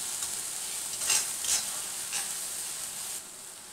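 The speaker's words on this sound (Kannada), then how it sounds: "ಇದು ಸ್ವಲ್ಪ ರಾ ಸ್ಮೆಲ್ ಹೋಗೋ ತನಕ ಫ್ರೈ ಮಾಡ್ಕೊಳ್ಳೋಣ." Ginger garlic paste frying in oil over cooked onions for a hotel-style veg biryani, a soft steady sizzle with a few quick spoon scrapes against the pan, no talking.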